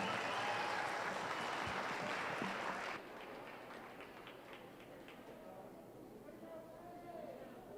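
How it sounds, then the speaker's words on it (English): Audience applause at a youth fair market steer show in Polk County, a dense, steady clapping that fills the first three seconds loudly, then drops to a softer, continuing patter with crowd murmur. "Give them all a nice round of applause."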